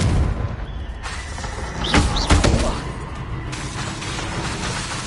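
The Confringo explosive spell in Hogwarts Legacy goes off as a heavy booming blast with a sharp crackling burst at its peak, over a continuous rumbling game backdrop.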